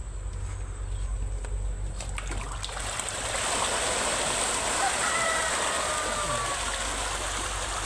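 Water from a fish tank trickling and splashing into an azolla pond, a continuous close splatter of flowing water with a low background hum, steady throughout and growing slightly louder midway.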